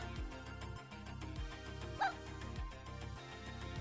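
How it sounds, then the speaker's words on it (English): A dog barks once in the video game Gravity Circuit, a single short yelp rising briefly above steady, driving electronic game music. "Dog!"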